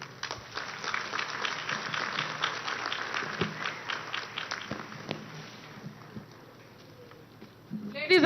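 Audience applause at a university graduation ceremony, a dense, sustained patter of clapping that carries for several seconds and then thins out toward the end, with a louder burst at the close.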